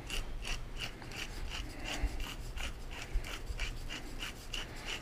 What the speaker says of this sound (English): Now this is red pepper flake in my grinder from IKEA, and it makes it just ever so much smaller.